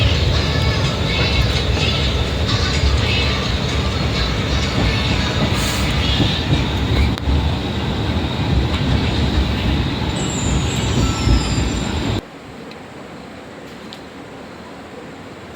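An Indian passenger train bound toward Raebareli runs steadily on the rails in a loud, constant roar with a faint rattle heard from inside a carriage. The roar cuts to a quieter hum near the end.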